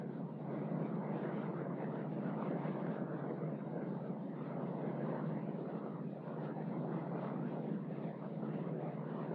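A steady, unbroken drone of an airplane flying, a dense roar holding constant level throughout with no voices.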